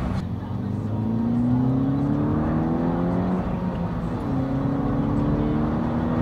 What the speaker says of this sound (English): Once the turbo kind of spools up.